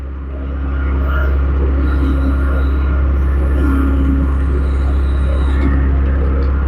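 A JoyT5 JT5600 excavator moves along, its deep, steady rumble close and loud, swelling in the first second and then holding constant, with faint voices in the background.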